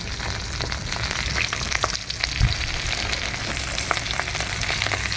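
Food fries loudly in a pan as turmeric goes in, giving a dense, continuous crackling sizzle throughout, with a brief thump partway through.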